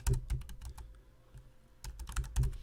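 Typing on a computer keyboard while writing a Markdown heading, with two bursts of quick, close key clicks and a quieter pause between them, no voices.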